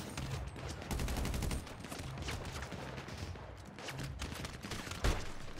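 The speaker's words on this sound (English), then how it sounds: "Ah, great, I'm being shot from everywhere now." Rapid gunfire bursts crackle through a GTA 5 Online shootout, repeated overlapping shots at moderate loudness with a sharper crack near the end, no talk.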